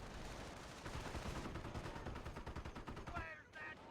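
Artillery fire and gunfire in the PhoenixMod game, a dense barrage of rapid, overlapping shots and booms rolling on without pause, loud and close, with faint voices in the mix near the end.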